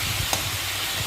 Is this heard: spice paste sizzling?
yes